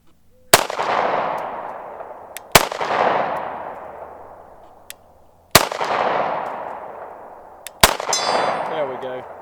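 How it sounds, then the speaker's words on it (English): A Walther PDP-F pistol fires four well-spaced shots at a steel target about 50 away. Each sharp crack is followed by a long metallic ring that slowly fades before the next shot, with no talking. "It's a steel target, so hopefully if I can get some hits on it, you'll be able to hear the impacts"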